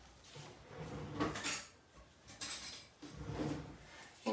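A spoon fetched in a kitchen: soft clinks of cutlery and dishes, a drawer rattling, and a few quiet scraping and knocking sounds close by, with no talking.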